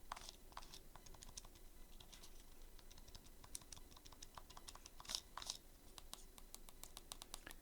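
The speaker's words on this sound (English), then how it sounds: "Clicky start and select." Quiet clicky buttons, start, select and the D-pad, on a Retroid Pocket Classic handheld are pressed in a fast, soft patter of tiny taps, low in level and close.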